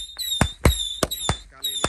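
A jumbo box of roman candle fireworks fires at night during Ramadan, launching five or six sharp loud pops at a steady rhythm, each shot trailed by a whistling high tone.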